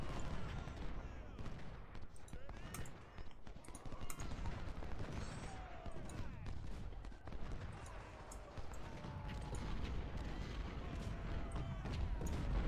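Continuous, dense rifle volleys and rattling musket fire in the Ultimate General: Civil War video game, layered shots crackling without pause over a busy battlefield din.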